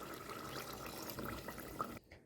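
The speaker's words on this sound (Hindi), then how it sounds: "मैं इसके अंदर डाल दूँगी ½ गिलास पानी का।" Half a glass of water poured into a pan of chicken korma, a continuous splashing, sizzling pour lasting about two seconds before stopping abruptly, close and fairly loud.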